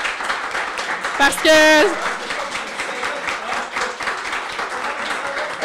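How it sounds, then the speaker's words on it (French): An audience claps for a construction company's owner at a heritage gathering in Saint-Raymond: a moderate, steady patter of applause runs throughout, with a brief spoken remark rising over it early on. "on pourrait donner une bonne main d'applaudissement à Paul-Alain Moisan de Construction Polyvalent"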